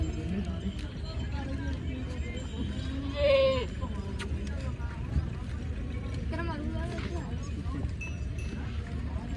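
At a livestock fair, a Beetal goat gives one short bleat partway through, under nearly constant talk and busy crowd noise.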